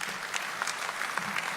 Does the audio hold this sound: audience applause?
yes